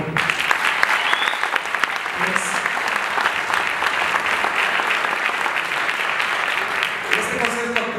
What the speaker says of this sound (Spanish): Quiero que le regrese un aplauso muy fuerte al Jaime